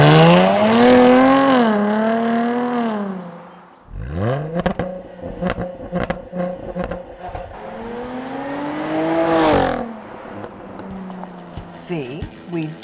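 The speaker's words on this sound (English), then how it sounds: "We always have viewers requesting more engine revving and engine noises" A 2017 Jaguar F-Type engine revs hard in loud, rising and falling sweeps, with a sustained climb at the start, a run of sharp throttle blips in the middle, and another long swelling rev near the end, heard alone without talk.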